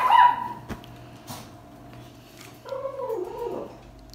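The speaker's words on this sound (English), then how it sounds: "That's my dog." A pet dog makes a brief whining, vocal sound at the start, then a wavering whimper later on, heard close by indoors with no talking over it.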